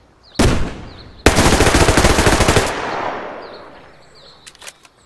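Gunfire in the Survarium game: a single loud shot is followed by a long rapid automatic burst of evenly spaced shots, then a fading echo and a few faint clicks.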